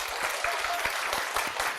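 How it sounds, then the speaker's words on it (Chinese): An audience at an indoor talk claps together in a brief, steady burst of applause, with the clapping moderately loud and even. "那其实我们真的要给主任一个掌声的哈。"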